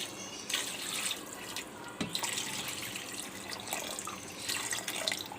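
Water poured from a glass into a cooking pot holding meat for stock: a continuous splashing, trickling pour with a few brief clinks and slight surges, steady and close, with no talking.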